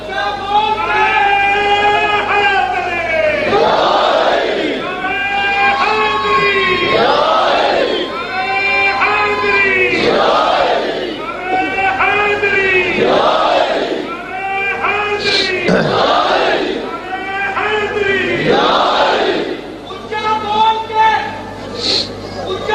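A large crowd at a religious gathering chants slogans in unison, loud and close, rising and falling in repeated rhythmic calls that fill the whole stretch.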